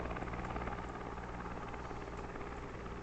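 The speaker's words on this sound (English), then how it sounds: "this is the helicopter that's coming to Microsoft Flight Sim in November" A Cabri G2 helicopter flies over Vancouver's industrial harbour in Microsoft Flight Simulator, its rotor and engine making a steady, loud, close drone with no change in level.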